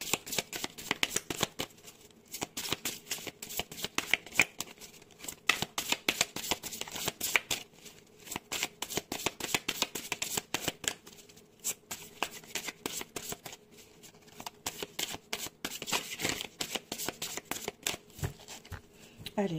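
Oracle cards are shuffled by hand in a continuous, close flurry of papery riffles and slaps lasting nearly twenty seconds, with no talking over it.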